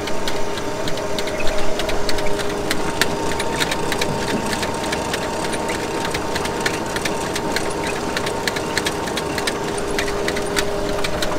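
A potato harvester's sorting belt with rotating fingers runs steadily, giving a continuous mechanical churn with rapid rattling clatter of potatoes and soil clods over a running engine.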